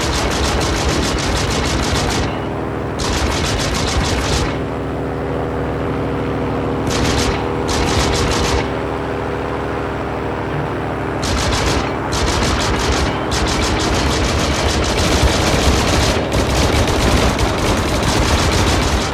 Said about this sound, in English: 20mm machine guns at the front and two 13mm machine guns also toward the front